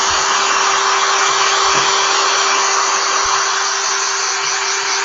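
Hair dryer blowing a steady, loud, even whoosh with a constant motor hum, used to speed-dry gesso on a painting canvas, running without pause and no talking.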